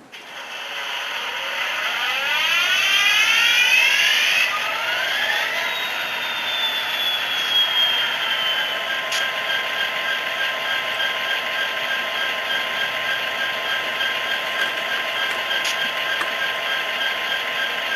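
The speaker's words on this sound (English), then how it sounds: "And start the engine." A model NSW 8206 diesel locomotive's sound decoder fires up the engine at low volume on a workbench, rising through a whining start-up into a steady idling drone with faint mechanical clicks and a brief high squeal.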